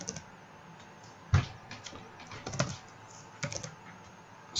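A computer keyboard in a quiet room, with a few separate keystrokes and short bursts of clicks spread over several seconds.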